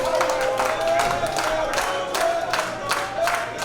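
Live pro wrestling crowd at a Pro Wrestling World Cup Canada match, a steady roar of cheering and clapping with rhythmic rising surges, probably chanting, that fills the arena continuously.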